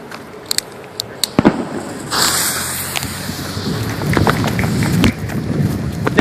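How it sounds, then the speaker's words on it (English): Fireworks cakes and mortars set off at a July 4 celebration give sharp nearby bangs, then a rapid crackling barrage and sustained rumbling bursts, with more loud reports toward the end. "Got a little cake here, a few more cakes here, and then a whole bunch of mortars with some missile battery."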